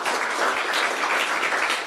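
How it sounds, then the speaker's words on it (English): An audience claps steadily for students, a dense, even patter of many hands, continuous and fairly loud throughout with no voices over it. "So applause to all of y'all for taking some risks"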